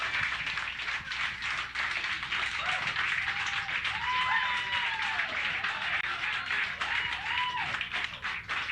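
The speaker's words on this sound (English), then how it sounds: "let's have one more round of applause for both great players" Audience applause at the close of a 1996 high-stakes nine-ball pool match between two professional players: steady, dense clapping fills the whole stretch at even loudness, with a few faint voices rising over it.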